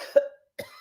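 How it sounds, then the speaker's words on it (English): Two short coughs close up, a sharp one followed by a second after a brief silence. "So do me a favor and cough."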